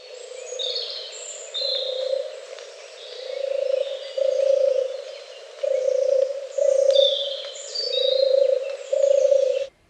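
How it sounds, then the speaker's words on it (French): A European turtle dove gives its purring call, a soft rolling coo repeated in steady low phrases, with other birds chirping higher in the background. "deuxième tourterelle, la tourterelle des bois"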